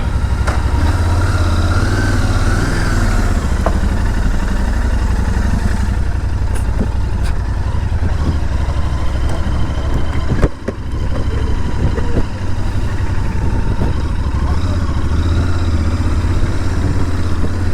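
Royal Enfield GT650 twin-cylinder motorcycle engine idling close by, a loud, steady low rumble with small throttle blips and brief dips, no speech.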